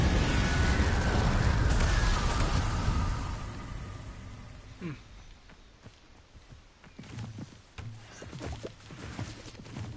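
An Incendio fire spell cast in Hogwarts Legacy bursts out as a loud, roaring whoosh lasting about three seconds, then fades into quieter footsteps and light scuffs.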